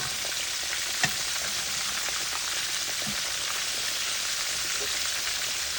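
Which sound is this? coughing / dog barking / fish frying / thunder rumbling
fish frying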